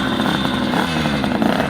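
A motorcycle engine revs up close, a loud, gritty, throbbing roar that swells and wavers in pitch through the whole short burst, with no voices.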